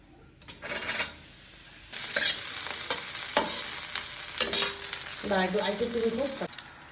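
Prawns dropped into a pan of fried garlic, with an intermittent sizzle and frying crackle broken by brief pauses and sharp clinks of utensils against the pan.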